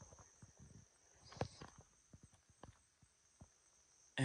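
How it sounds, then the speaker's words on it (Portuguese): Slow, uneven hoof footfalls of a loose ox walking through forest undergrowth, faint and fairly near, with soft separate thuds spread over a few seconds and a sharp noise at the very end. "Tem um boi solto aqui nessa mata."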